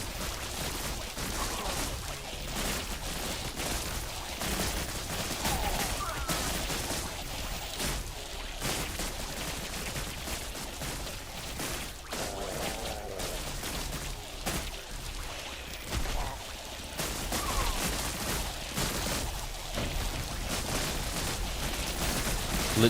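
Artillery fire in the strategy video game Buggos 2 goes off as a steady, dense barrage of muffled blasts and crackling bursts, continuous and fairly loud throughout with no talk over it.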